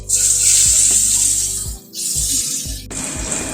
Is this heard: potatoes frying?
yes